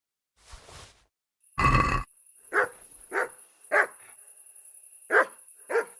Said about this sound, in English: Carry on barking at nothing and I'll make sausages out of you.